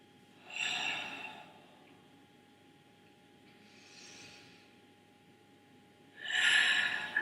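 Slow, deep breaths during a beginner stretching routine, with two clear exhales at the start and end and a softer breath in between, close and quiet with no talk.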